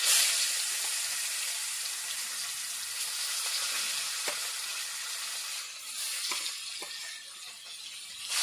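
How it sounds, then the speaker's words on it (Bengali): Fresh snakehead fish frying in hot oil in a rural kitchen, giving a steady, fairly loud hiss and sizzle that runs throughout, broken by a few brief clinks and small spikes. "এভাবে বাকি মাছগুলো ভেজে নেব।"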